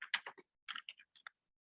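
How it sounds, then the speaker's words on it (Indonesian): Short bursts of crisp clicks as a command is typed on a computer keyboard, close and quiet, in two quick clusters with a pause between. "langkah pertama kita mengetik WAMI"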